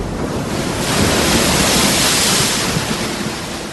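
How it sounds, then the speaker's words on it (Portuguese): Storm waves churn on a lake under strong wind, making a loud, continuous roaring wash that swells and eases slightly. No voices are present. "uma grande tempestade agitou o lago, de tal maneira que as ondas começaram a cobrir o barco"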